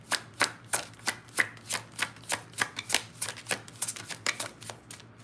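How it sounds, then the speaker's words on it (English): A deck of tarot cards being riffle-shuffled, a quick series of about twenty sharp papery flutters and snaps in steady rhythm, close and alone. "when I was shuffling the deck for you"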